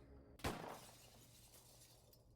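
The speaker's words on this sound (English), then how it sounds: "Glass shatters against my back" Glass shatters in one sharp crash, spreading into a brief spray of tinkling fragments that fades over about a second and a half. It is fairly quiet overall, with no voices.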